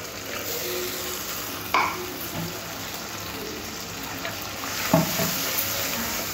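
Spice paste of garlic and cashew cooking with a splash of water in a pan for chicken maharani, a continuous bubbling sizzle with a few scraping stirs, close and alone.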